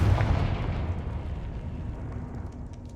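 A Confringo blasting spell explodes in Hogwarts Legacy, a heavy booming burst at the start that rumbles and fades away over a few seconds.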